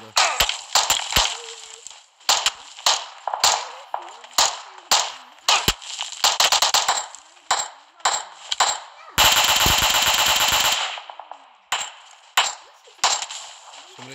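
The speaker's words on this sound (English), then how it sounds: "Somebody shooting out from the other directions under." Gunfire from the PUBG Mobile video game: sharp single shots and short bursts scattered throughout, with a sustained rapid automatic volley near the middle, loud and close.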